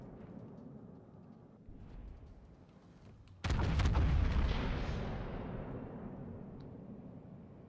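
Naval artillery firing in the World of Warships: Legends game: quiet rumbling background, then one sudden loud booming salvo that rolls on and fades slowly.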